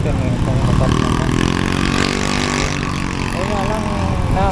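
A Honda Beat 2026 scooter's engine and exhaust drone steadily and fairly loudly at close range, with someone talking over it throughout.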